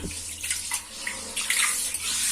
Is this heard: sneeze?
no